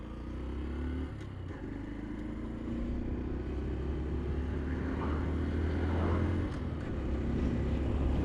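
A brand new Honda Dax cruises along Yakima Valley Highway in second gear, giving a steady low engine drone mixed with broad wind rush that holds at an even, close level throughout.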